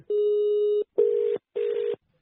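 Telephone ringing on a Hindi radio show's call-in line: three loud, clean ring bursts, one long tone then two shorter ones separated by brief silences, with no voices over them.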